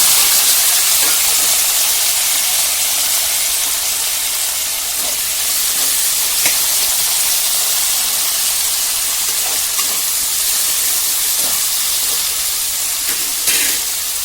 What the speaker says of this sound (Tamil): எண்ணெயை விட்டு கொஞ்சம் வெந்தயம், கொஞ்சம் கடுகு, சின்ன வெங்காயம், தக்காளி, பூண்டு இது பொரிஞ்சவுடனே நல்லா போட்டு